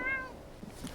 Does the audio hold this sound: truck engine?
no